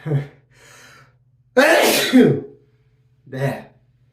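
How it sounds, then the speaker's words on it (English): A single loud, abrupt sneeze bursts out between soft breaths and a quieter throaty sound, close to the listener. "Now I think I'm going to sneeze."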